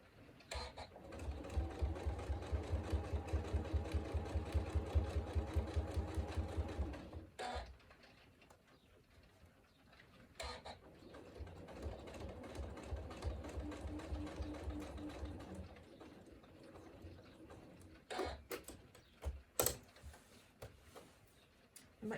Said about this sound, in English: And once you get to the mark, just sew straight across.